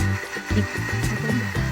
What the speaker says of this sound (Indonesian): Ini blender dulu bumbunya sampai benar-benar halus